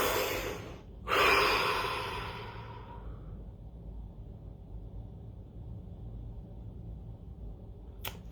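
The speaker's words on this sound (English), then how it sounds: "Take a deep breath." A person takes a deep breath during a relaxation exercise, a long, close, breathy inhale and exhale over the first few seconds, then near silence.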